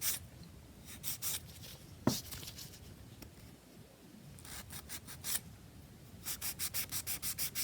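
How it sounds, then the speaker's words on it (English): A nail file is drawn across a fingernail in quick bursts of scratchy rubbing strokes, with pauses between sets and a rapid, even run of strokes at the end. The sound is close and fairly quiet. "but okay, filing straight"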